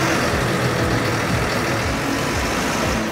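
A Fendt 930 Vario tractor's MAN diesel engine runs steadily and loudly nearby, hitched to a large hook-lift trailer, a continuous deep rumble with no voices.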